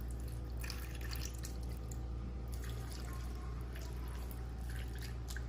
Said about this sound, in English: We're gonna pour the chicken broth into the pan.